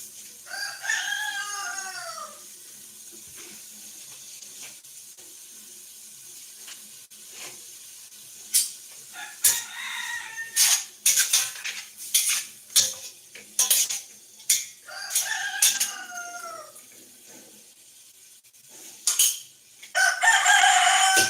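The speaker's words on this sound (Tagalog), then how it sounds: "hear the chickens?" Chickens clucking and a rooster crowing in a rural province yard, with several loud nearby crows spread through the clip, softer clucks between them, and faint clinks of dishes and cutlery in the background.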